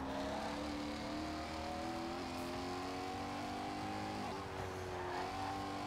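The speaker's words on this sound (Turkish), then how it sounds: "Vites düşürdüm, bitti, araba delirdi." A car engine in Forza Horizon 4, either a Koenigsegg Agera RS or a Pagani Zonda Cinque Roadster, downshifts and revs hard, the tone climbing, dropping at each gear change and climbing again, steady and loud throughout.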